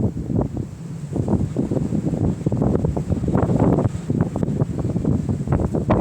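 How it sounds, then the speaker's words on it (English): Strong wind blows outdoors at a reportedly haunted site, buffeting the microphone with loud, continuous rumbling gusts and rustling throughout. "You can see how windy it is by the camera shake."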